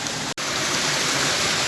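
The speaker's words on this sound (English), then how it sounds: "It's raining heavily." Heavy rain pours down by a river at night, a dense, steady hiss that fills the whole clip apart from one brief dropout near the start.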